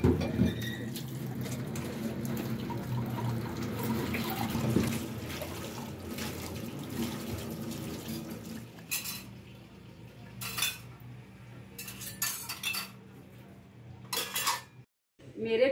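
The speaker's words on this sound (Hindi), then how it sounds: "2-3 बर्तन पड़े थे, मैंने कहा ये भी जल्दी से धो लूँ" Dishes and cutlery clink and clatter near a sink while tap water runs, with sporadic splashes and bursts of flowing water toward the end.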